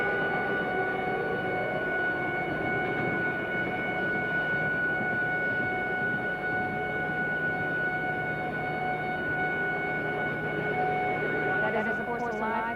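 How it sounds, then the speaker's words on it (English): Air raid sirens wail steadily and continuously in the distance in eastern Saudi Arabia in 1991, a sustained layered tone over a dense rumble of background noise. "We have a report now that air raid sirens are sounding in eastern Saudi Arabia."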